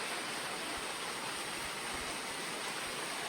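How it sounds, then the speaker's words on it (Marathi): Heavy rain pouring down at night during the first night of a Navratri village fair, a dense, steady hiss of water with no let-up and nobody talking. "पहिल्याच रात्री एवढं पाणी पडायला लागलाय"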